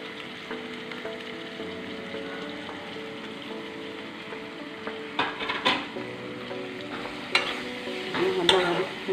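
Tomatoes sautéing in a pan for prawns brinjal kurma, with a steady soft sizzle under repeated scraping and stirring of a utensil against the pan, close up and moderately quiet.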